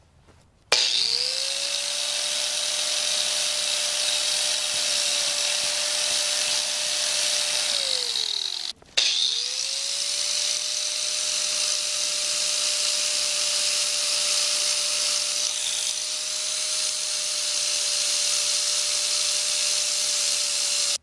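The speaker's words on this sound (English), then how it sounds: "what if I just want to jam this into a grinder?" A ferro rod is jammed against a spinning power grinder, making a loud, sustained steady whine with a harsh hiss that runs for several seconds, cuts out briefly, then spins up again and holds.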